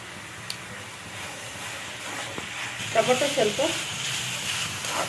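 Capsicum and tomato fry in a pan, making a soft, steady sizzle with a brief clink of stirring. The sound is quiet and close, and the sizzle swells slightly partway through, with faint voice-like sound near that point.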